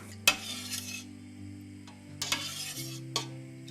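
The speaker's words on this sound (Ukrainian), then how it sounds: "Час від часу ми його помішуємо, щоб е, воно не пригоріло до стінок кастрюлі." A spoon scrapes and clinks against a saucepan as milk is stirred for homemade cheese, a few sharp metallic knocks and swishes over a low steady hum.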